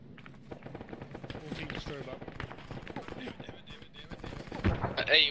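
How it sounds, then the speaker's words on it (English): Machine gun fire in the Arma 3 video game, bursts of rapid shots mixed under near continuous voice chat, with a louder crack of gunfire near the end. "we got a machine gun on top of the roof of that 5-story."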